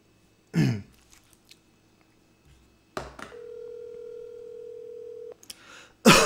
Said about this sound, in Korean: 지금 한번 전화를 어, 바로 걸어 보겠습니다.